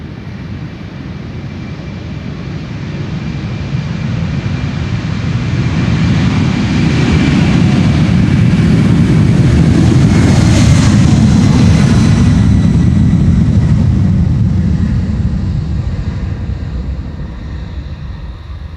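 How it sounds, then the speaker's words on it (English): A jet airliner takes off from the Polderbaan runway 36L at Amsterdam Schiphol on a sunny morning, its loud engine roar swelling to a peak and slowly fading as it passes, heard alone. "Old school airplane, old school engine sounds"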